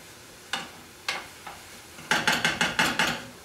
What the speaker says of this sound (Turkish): kıymamızın yanına semiyi şöyle bir güzel kavuralım.